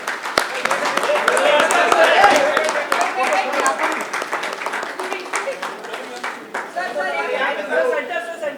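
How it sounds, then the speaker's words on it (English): At a press conference, a crowd gives sustained clapping for actor Ashutosh Rana, steady and fairly loud for several seconds with chatter and talking mixed in before the applause tapers slightly. "Please put your hands together and a huge round of applause for Mr."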